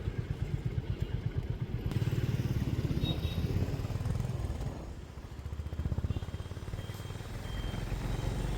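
A motorcycle rides along the road toward Kochi airport, its engine droning steadily and loud throughout with wind rush, close by, without talk.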